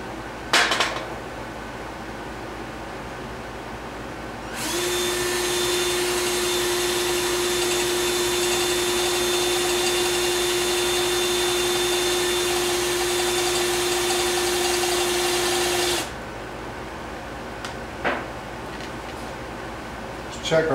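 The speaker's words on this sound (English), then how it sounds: "Check our progress before we drill past the depth of the center drill" A drill bores into the actuator valve housing of a 1990 Jeep Wrangler 4x4, running as one steady, loud whine for about eleven seconds and then stopping, with quieter handling noises before and after.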